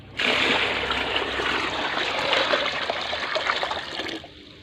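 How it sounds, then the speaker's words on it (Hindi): A steady, forceful rush of water spraying from a pipe driven by a cooler motor used as a water pump, loud and close, with a motor hum underneath, ending abruptly. "देखते हैं कहाँ तक पानी ये फोर्स फेंकती है मोटर।"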